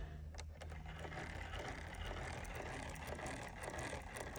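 A Mannan King chain stitch embroidery machine runs quietly with its motors off, giving a faint, steady mechanical whir with light ticking and no talk.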